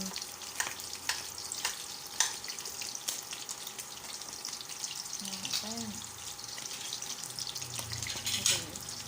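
Shellfish pancake frying in hot oil gives a steady, broad sizzle with occasional sharper crackles as a fork pokes the batter; a faint voice-like murmur surfaces briefly near the end.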